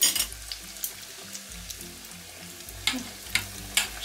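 Doughnuts frying in hot oil in a home kitchen, giving a steady, close sizzle and bubbling with a few sharper spatters and stirring sounds, and no talking.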